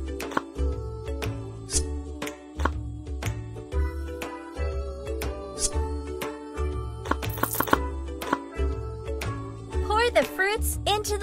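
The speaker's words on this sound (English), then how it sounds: "Now peel the banana and chop it" A banana being chopped in the kids' babysitting game Sweet Baby Girl Daycare 4: a steady run of crisp, evenly spaced knife taps, close and clear, layered over bright, bouncy background music.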